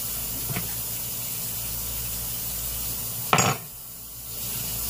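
Water sprays briefly into a kitchen sink during rinsing: a short splash, then a steadier faint hiss of running water with no voices.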